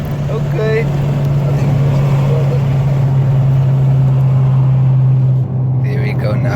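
Steady droning engine hum from inside a moving Toyota Corolla swapped with a Nissan VQ V6, a constant low note with road noise, loud and continuous throughout, with a voice faintly in the background.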